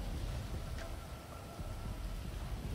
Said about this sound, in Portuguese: Parar a chuva e a água baixar